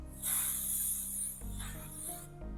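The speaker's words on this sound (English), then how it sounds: "now I'll be spraying it on my face." Makeup setting spray misted onto a face, a long hissing spray burst close to the microphone, with soft background music underneath.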